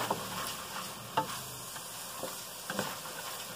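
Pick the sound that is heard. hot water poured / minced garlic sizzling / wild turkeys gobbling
minced garlic sizzling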